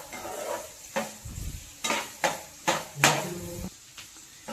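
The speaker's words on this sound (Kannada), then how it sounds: "ಈರುಳ್ಳಿ ಎಲ್ಲ ಚೆನ್ನಾಗಿ ಫ್ರೈ ಆಗಬೇಕು." Onions frying in a pan for a chicken gravy, a soft sizzle under repeated scraping strokes of a spoon stirring, about eight distinct stirs in a steady rhythm.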